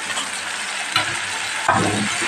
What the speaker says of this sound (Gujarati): સરસ મસાલા સાથે સાતડી લેવાનું છે